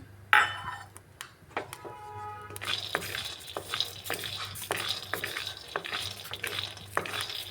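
Peanuts stirred and dry-roasted in a kadai over a gas flame: repeated scraping and rattling of nuts against metal, with steady sizzle and occasional sharp clinks of the utensil, close and continuous.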